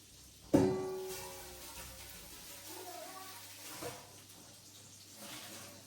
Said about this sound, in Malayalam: കുട്ടികൾക്കുള്ള കുപ്പിയൊക്കെ കഴുകി അതിൽ വെള്ളം ഒഴിച്ച് വെച്ചു.